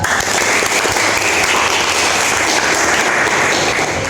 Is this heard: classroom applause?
yes